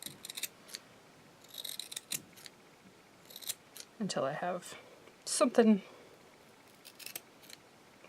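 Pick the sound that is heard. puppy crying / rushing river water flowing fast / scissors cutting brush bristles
scissors cutting brush bristles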